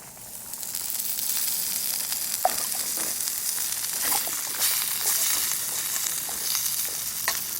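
Asparagus frying in olive oil and ham juice at a camp cooking setup, a steady bright sizzle and crackle with occasional sharper pops and stirring scrapes, close and continuous with no talk.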